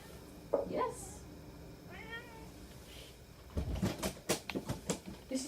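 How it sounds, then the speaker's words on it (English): A house cat yowls with a couple of drawn-out meows early on. Soft rustling and handling noises follow close by. "my cat's yowling at me because he's had no attention from 6 o'clock this evening"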